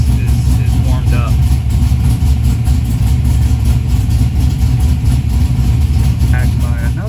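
An LS3 V8 swapped into a Thirdgen Camaro IROC-Z idles steadily once warmed up, a constant low rumble running throughout with a voice talking over it.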